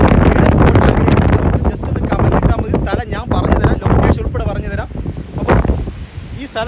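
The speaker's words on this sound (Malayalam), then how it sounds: "ഭാഗത്ത് നല്ല കാറ്റുണ്ട്" Strong gusts buffet the microphone in a constant low roar on a hilltop viewpoint above 3000 feet near Thiruvananthapuram, while a person talks over it.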